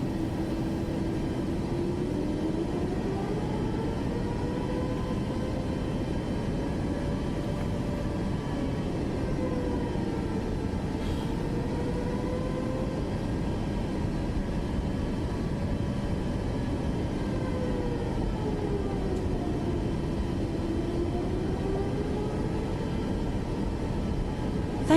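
Airplane taking off in Microsoft Flight Simulator 2024, a steady engine drone with a rising and falling whine, constant and evenly loud throughout, with no talk over it.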